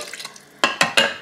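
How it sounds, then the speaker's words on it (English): A spoon stirs a ground beef stroganoff mixture with canned soup in an Instant Pot. Soft rustling leads into three quick, loud scraping clanks against the pot. "Mix that all up in there."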